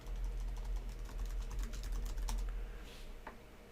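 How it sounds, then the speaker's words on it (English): Someone types on a computer keyboard during a Microsoft Teams session, a steady run of quick, fairly close keystrokes over a low background hum, slowing near the end. "going to type something"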